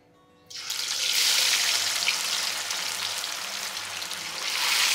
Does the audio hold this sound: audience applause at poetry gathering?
no